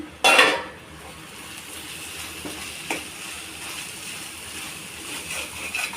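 A spoon scrapes and stirs cumin and coriander powder into a bubbling egg curry in a pan, opening with a loud clatter, then a soft steady sizzle with a few light taps, close by.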